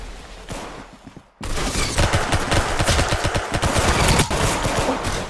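Rapid automatic gunfire in a shooter video game, a short burst then a dense sustained fusillade of loud shots after a brief pause, with no talking.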